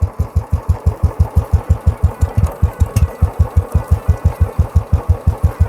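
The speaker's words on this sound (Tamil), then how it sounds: "வண்டி ஆன் பண்ணி ஆகிட்டு பின்னாடி கியர் போட்டுடுங்க." A Royal Enfield motorcycle engine runs steadily in gear while its chain is cleaned, a loud, even thumping beat of single-cylinder pulses repeating rapidly and evenly up close.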